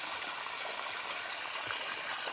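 Water flows steadily along a sugarcane field channel with a continuous soft rushing and trickling, close by and uninterrupted, with no voices.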